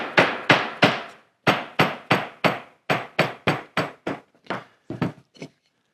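Hammer taps a bolt out over a hole in a workbench during a guitar build, about seventeen sharp, ringing metallic strikes in quick bursts with short pauses, close and loud, tapering softer toward the end.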